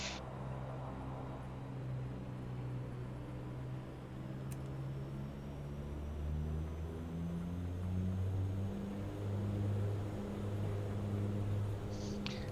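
Dash 8 turboprop engines run at takeoff power in the X-Plane 11 flight simulator, a loud, steady droning roar with layered tonal hum that holds throughout, with a slight shift in pitch partway through and no talking.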